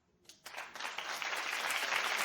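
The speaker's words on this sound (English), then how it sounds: "Clap if you feel sorry for her" Studio audience at a daytime TV talk show breaking into applause, starting from a couple of scattered claps and quickly swelling into a steady, full round of clapping.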